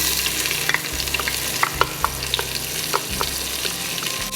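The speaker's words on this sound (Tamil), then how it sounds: "இப்போது ஆனியன், நம்ம வெட்டி வச்சுருக்கிற ஆனியனை நான் அதில் போடுறேன்." Chopped onions for mushroom biryani frying in hot oil, a steady broad sizzle with repeated scraping stir strokes and low rumbling underneath, close and continuous throughout.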